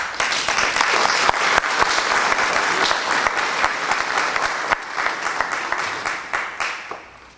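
An audience at a Republican commission-race political forum claps loudly and steadily for several seconds, a dense wash of hand claps with sharp individual strikes, tapering off at the end.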